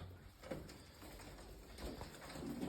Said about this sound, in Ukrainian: бачите, скільки голубів